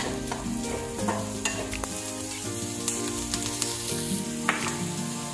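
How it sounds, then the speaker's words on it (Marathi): Chopped yellow and green bell peppers sauté in a pan, stirred steadily with a continuous sizzle and repeated spoon scrapes and knocks, close and fairly loud, with no talking. "बारीक चिरलेली पिवळी सिमला मिरची, बारीक चिरलेली हिरवी सिमला मिरची परत आपल्याला 2 ते 3 मिनिट परतून घ्यायचे आहे।"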